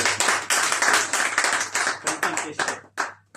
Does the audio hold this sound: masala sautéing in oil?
no